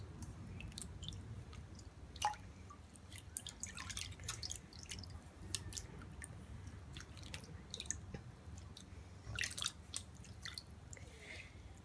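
Water splashed on the face to wash off a homemade skin mask: soft wet drips, squishy dabs and scattered splashes, close and faint, irregular throughout with no speech.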